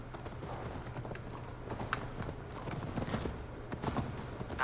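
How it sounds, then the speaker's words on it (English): Horse hooves clip-clopping in the Assassin's Creed Valhalla video game, a fairly quiet, steady patter of hoof strikes over a low background hum, with no voices over it. "You can't just take Magni's horse"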